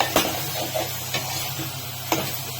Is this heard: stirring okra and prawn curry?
yes